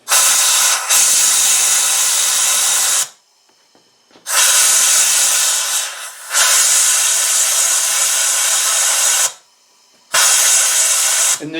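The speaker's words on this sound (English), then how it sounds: "as you push this button, and then the air will get that grit flying around in there and clean your plug" A spark plug cleaner blasts compressed air and grit in long, loud hissing bursts. Three sustained sprays are broken by short silent pauses, with a slight flutter as the plug is wiggled inside.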